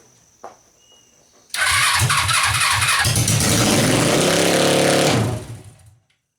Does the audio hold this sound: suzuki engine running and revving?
yes